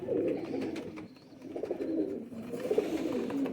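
Pigeons of a Sheikhon wale and Faqeer Gull cross coo close by in soft, throaty, repeated rolling calls, continuous across the stretch with a brief dip in the middle.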